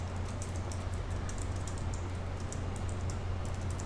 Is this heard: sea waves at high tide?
no